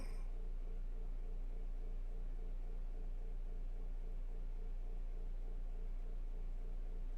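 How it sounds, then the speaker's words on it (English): A steady electric fan drones on, a low constant hum with broadband whir, unchanging throughout and fairly quiet. "If you hear a slight droning sound in the background, that is my fan running"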